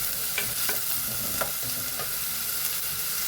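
Sliced onions fry in a pan for a Rayalaseema-style tomato and brinjal curry. They sizzle steadily up close, broken by a few clinks and scrapes of stirring.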